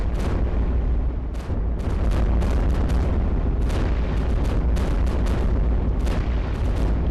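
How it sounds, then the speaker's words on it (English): Cannon turrets in the tower-defense game iBomber Defense fire continuously in a dense barrage. Deep booms pile into a steady rumble, with sharp repeated reports on top and no talk. "Three level 3 cannons with level 3 comms turrets are pretty potent."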